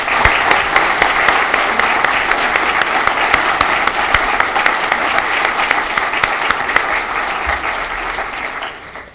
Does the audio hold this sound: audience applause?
yes